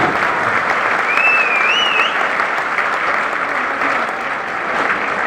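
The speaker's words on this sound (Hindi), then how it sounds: "उनके लिए जबरदस्त ताली होनी चाहिए" An audience at a large association gathering gives loud, sustained applause for new guests, with dense, continuous clapping that holds for several seconds and eases slightly toward the end, and a faint whistle partway through.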